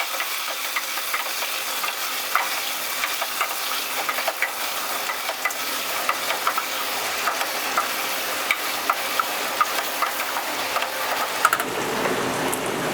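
Three potatoes, just added to hot oil for a masala aloo dish, sizzle steadily while being stirred, with frequent light scrapes and clicks of the spoon against the pan and a louder clatter near the end, no voices.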